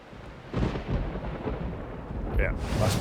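Thunderstorm in the Mass Effect video game, deep rumbling thunder rolling continuously with a louder crack near the start and a hissing rain-like wash throughout, fairly loud.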